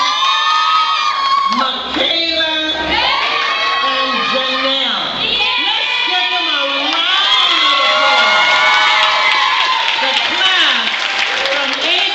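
A graduation crowd at Albania Christian Academy cheers loudly and claps without pause, with high children's shouts and whoops rising over sustained applause.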